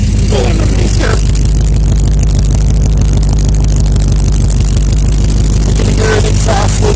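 Chevrolet K10 truck V8 idling and revving through a newly fitted dual exhaust to headers, a loud, steady low rumble with a brief throttle blip near the start and another near the end.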